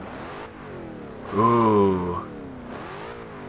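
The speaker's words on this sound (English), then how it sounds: "a listen to this small block V8 with the twin turbos now" Twin-turbo small-block V8 in a 1988 Chevrolet Monte Carlo SS, Forza Horizon 2, hums steadily then swells into a loud, rising rev near the middle before settling back; a voice briefly exclaims.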